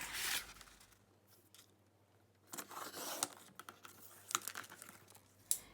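Paper for a junk journal is cut down with a few short crisp snips and crinkles, close and quiet, with faint handling in between and no talking.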